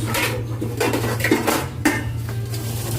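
Milkfish flesh is sautéed in a pan with repeated metallic clinks and scrapes of a utensil against the cookware, close and fairly loud over a steady low hum.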